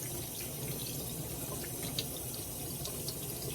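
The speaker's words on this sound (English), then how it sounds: "Pour this water out. And then rinse it." Water runs steadily from a tap into a sink while rinsing chicken wings, a constant splashing hiss with a few brief clinks and drips, no voices.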